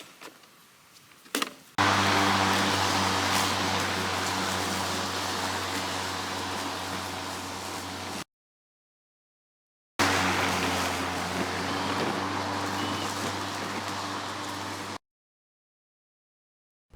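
Ego electric lawn mower fitted with Select Cut mulching blades cutting grass, a steady close motor whir with a low hum, running about six seconds, briefly cutting out, then resuming for another five seconds.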